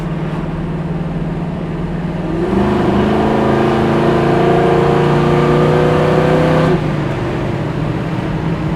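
A 1971 Chevrolet Nova with a 454 big-block V8 accelerating hard, heard from inside the car: the engine's drone climbs steadily in pitch through a long pull, then cuts off sharply when the throttle closes. No talking.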